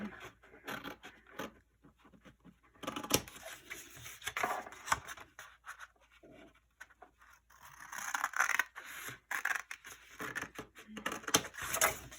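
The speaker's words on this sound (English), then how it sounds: "take a scissor like I did, and just cut it on the score line" Scissors slicing through card stock along a score line at close range: a series of crisp snips and papery scraping strokes in irregular bursts, quiet overall with no talking.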